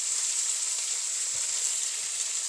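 Potato and brinjal sauté in hot oil for a spicy vegetable gravy, giving a steady, even sizzle throughout with a couple of faint stirring knocks and no talk.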